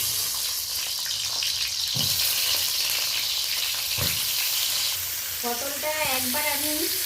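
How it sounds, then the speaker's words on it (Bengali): Steady frying sizzle of pointed gourd in hot oil, with occasional scrapes of stirring and a voice briefly heard near the end. "আরও কিছুটা পরিমাণ পটল আছে, সেকেন্ড ব্যাচ আমি ভেজে নিচ্ছি।"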